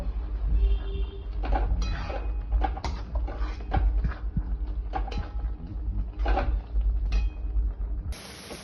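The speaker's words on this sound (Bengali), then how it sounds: "গরম মশলা দিয়ে এবার আমি নেড়ে এটা মিশিয়ে জলটা একটু শুকিয়ে নেব।" Mocha (banana blossom) curry with garam masala being stirred in a pan, giving repeated scraping and clinking of a spoon against metal over a low steady simmer, close and fairly loud with no talk.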